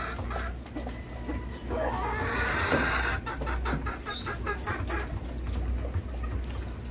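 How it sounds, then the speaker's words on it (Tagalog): Pigeons gather at a feeding spot, cooing and fluttering with soft clucking calls and rapid wing flaps over a low background hum, fairly close and moderate in level. "Kakain na yan mga kalapatids."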